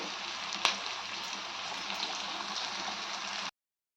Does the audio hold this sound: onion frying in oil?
yes